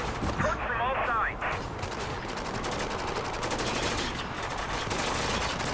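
Gunfire in Spec Ops: The Line comes through as a dense, continuous clatter of rapid automatic shots and battle noise. Players talk over the top throughout.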